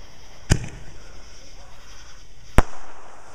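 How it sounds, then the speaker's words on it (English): Salute rocket fireworks at a 4th of July display bang sharply twice, a couple of seconds apart, each a loud, close crack ringing out over a steady outdoor background. "Whoa! Salute rocket."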